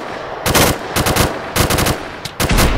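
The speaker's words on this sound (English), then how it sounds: "Someone's with a shotgun near us." Shotgun gunfire in an online video game, several loud bursts of rapid blasts in quick succession, each lasting a fraction of a second with short gaps between them and no talk over them.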